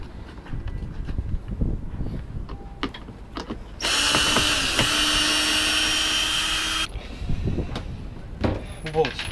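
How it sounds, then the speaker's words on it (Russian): A cordless screwdriver backs screws out of an autopilot unit under repair, a loud, steady whirring burst lasting about three seconds, with someone talking before and after amid handling clicks and knocks. "Дальше мы берем шуруповерт и, соответственно, выкручиваем"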